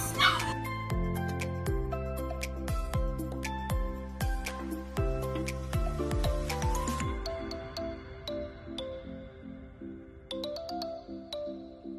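A Pomeranian puppy gives sharp yips and soft whimpers over a bright, tinkling electronic melody that dominates the mix, with the barks sounding fairly close.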